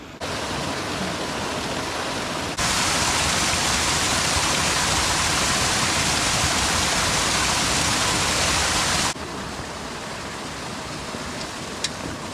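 A waterfall fed by a natural hillside spring pours in a steady, dense hiss of rushing water, growing louder and brighter in the middle as if approached, then easing back to a softer rush.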